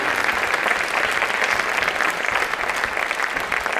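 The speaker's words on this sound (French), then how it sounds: "on les applaudit très très très fort" A theatre audience applauds the intermittent crew at a season presentation, dense sustained clapping filling the space at steady strength without letting up.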